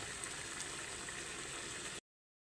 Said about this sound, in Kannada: ಹೀಗೆ ಕುದೀತಾ ಇರಬೇಕು, ಚೆನ್ನಾಗಿರುತ್ತೆ.